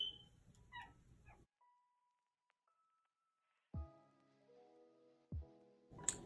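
Outdoors a dog whimpers and yips faintly at a distance, a few high thin cries followed by near silence, with some louder thumps and clatter later on.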